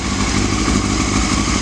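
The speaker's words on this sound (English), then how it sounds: "It's got a Yoshimura aftermarket exhaust. Doesn't sound too bad." A water-cooled motorcycle with a Yoshimura aftermarket full exhaust system idles close by, a steady, dense, rumbling drone that stays loud and even throughout, with no voices over it.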